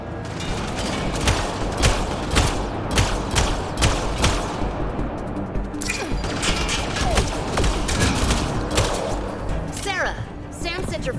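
Rapid gunfire in the sci-fi shooter Mass Effect Andromeda, loud repeated bursts of shots crackling steadily throughout amid combat noise, with characters shouting over the fight.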